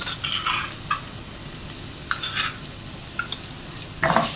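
Crushed green chillies being stirred and sautéed in a pan for aloo pulao, with a low steady sizzle broken by a few scraping spoon strokes and light clinks against the pan, no voices.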